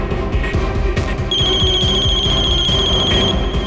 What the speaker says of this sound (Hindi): फोन उठाओ वीरेन, फोन उठाओ।